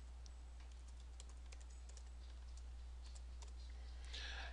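A question is typed on a computer keyboard, with a quiet, irregular run of close key clicks over faint background hum and a slightly louder burst at the end.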